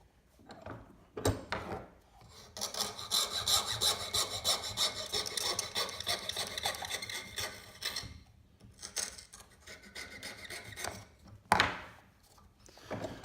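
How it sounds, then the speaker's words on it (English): Junior hacksaw cutting through MDF by hand, a steady run of rasping back-and-forth strokes that pauses briefly near eight seconds and ends with a couple of sharper strokes, close and fairly loud with no talk. "I've cut the rough shape out using a hand saw, a junior hacksaw"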